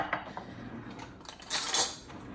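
A plate is set down with a soft clunk, then a spoon is grabbed and clinks brightly against dishes and cutlery. The sounds are close, in a home kitchen.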